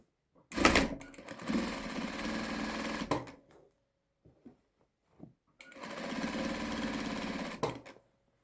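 A sewing machine runs steady topstitching on Adana shalwar trousers in two bursts of a few seconds each, close and loud, with a short pause between and small clicks of handling in the gap.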